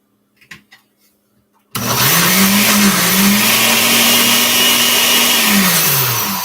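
A kitchen blender pureeing food for a Middle Eastern vegan dish switches on after a few soft clicks and roars steadily and loudly, its motor pitch shifting slightly as the contents smooth out, with no voice over it.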